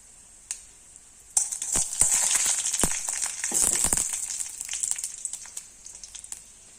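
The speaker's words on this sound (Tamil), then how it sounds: "இதில் நம்ம வந்து இந்த ரசத்தை ஊற்றிடலாம்." A loud burst of sizzling hiss as rasam is poured into hot oil tempering with curry leaves, crackling and spitting steadily for several seconds before easing off.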